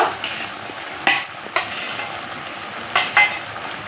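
A spoon stirs a mustard-paste spice mixture in a cooking pan for a village-style pui shak dish, giving scattered close scrapes and clinks against the pan over a soft sizzle.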